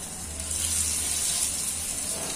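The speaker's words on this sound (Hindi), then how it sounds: "थोड़ा सा फ्राई करेंगे।" Paneer marinated in curd and gram flour fries in hot ghee with a steady, bright sizzle that holds loud and close throughout, a low hum underneath.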